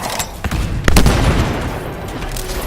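Turret gunfire rattles in the sci-fi shooter game Anthem, a close, loud fusillade of rapid shots with sharp bursts and booms over a steady roar of battle noise.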